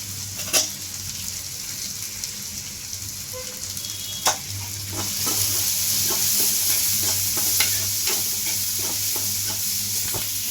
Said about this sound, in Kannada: ಆನಿಯನ್ನು ಚೆನ್ನಾಗಿ ಫ್ರೈ ಆಗಬೇಕು, ಹಸಿ ವಾಸನೆ ಎಲ್ಲ ಹೋಗಬೇಕು